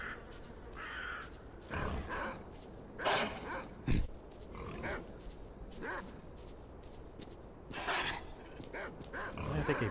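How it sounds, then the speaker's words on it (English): Mutant dogs in the Stalker Call of Pripyat video game snarl, growl and yelp in repeated harsh bursts at moderate distance, with no talking. "Dogs."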